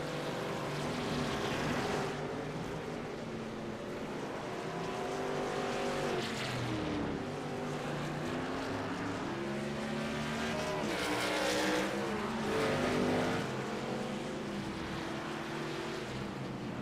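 Racing trucks roar around Circuit of the Americas in a Black Horizon Truck Series race, engines droning and rising through gear changes as a pack passes, loud and continuous with no talk.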